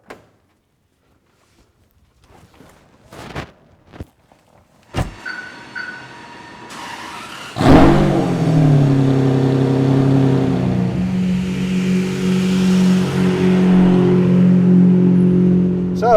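A Ferrari 456 GT with its V12 engine starts up after a few clicks, thumps and a whirring electric motor, then settles into a loud, steady engine drone as the car rolls off, heard from inside.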